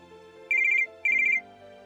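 A mobile phone's ringtone signals an incoming call with two short, bright melodic bursts separated by a brief pause, heard close and clear over a faint indoor background.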